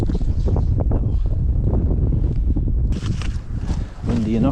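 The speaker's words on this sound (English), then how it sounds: "Windy enough for you?" Strong wind gusts roar across an open frozen lake while ice fishing, buffeting the microphone steadily, with someone speaking over the blustery noise.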